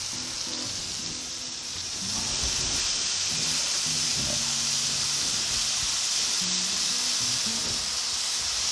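Heart-shaped steaks sizzle on a Blackstone 28-inch Pro griddle, a steady loud frying hiss that swells after a couple of seconds and holds, close up, with faint low clatter beneath.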